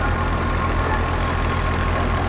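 An old Fiat 480 tractor with a 55 hp engine runs a wheat thresher, its steady low rumble loud and continuous throughout with no pauses.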